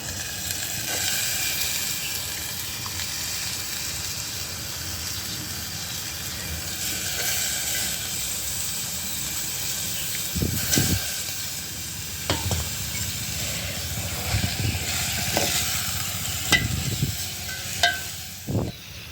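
Potatoes and cluster beans sizzling in hot oil on a wood-fired village stove, a continuous frying hiss broken by intermittent stirring scrapes and knocks from a utensil.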